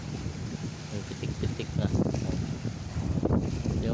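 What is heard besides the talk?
strong sea waves at night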